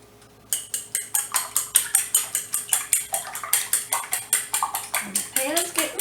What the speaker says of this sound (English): Just beat the egg up.